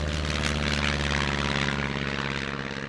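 Steady, droning engine and propeller hum of a Cirrus light airplane taxiing, heard from inside the cabin with a constant buzzing tone and no voices.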